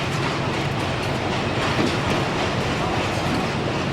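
A diesel freight train hauling wagons of sand and one of cement labors up a stiff grade on a Portuguese branch line, giving a steady loud rumbling roar with continuous wheel and rail clatter.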